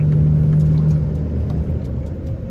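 Steady car engine rumble and road noise while overtaking a six-wheeler truck on a winding Thai border road, a continuous close drone with a faint rising whir partway through.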